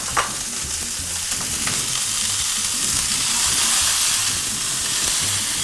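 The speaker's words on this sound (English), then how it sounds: "I'm going to put a little bit of sesame oil in there, just a little bit. And I'm ready to start frying my ground beef." Ground beef sizzling and frying in sesame oil in a cast iron pan, a steady close broadband crackle and hiss with a few stirring scrapes, no talk.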